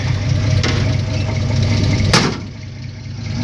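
A 1964 GMC truck engine idles steadily off choke, a close, loud, even low rumble that dips slightly near the end.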